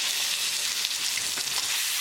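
Ground bison sizzles steadily as it drops into a hot pan of oil and spices, a loud, continuous close-up crackle with no talking.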